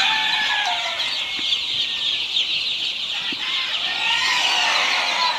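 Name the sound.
Khaki Campbell ducklings on a farm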